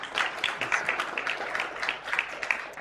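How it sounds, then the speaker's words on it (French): Audience at a French business conference clapping for a selected participant: dense, steady applause from a crowd, moderately loud and continuous throughout. "là c'est à la fois un applaudissement de félicitations et de soulagement"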